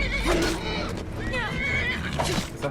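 A horse in the video game Skyrim neighs and whinnies loudly several times, with a few clip-clop hoof sounds. Someone talks over much of it.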